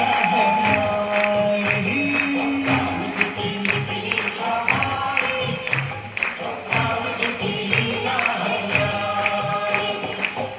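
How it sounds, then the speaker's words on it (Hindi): A hall audience at an annual school function claps and cheers continuously over a Ram bhajan sung with music, dense rhythmic applause filling the room throughout. "पूरा हॉल गूंजना चाहिए आपकी तालियों से"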